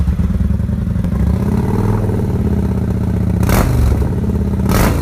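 A 2013 Kawasaki Vulcan 900 motorcycle with its exhaust baffles removed runs steadily with a loud, deep throbbing idle, and two brief revs swell near the end.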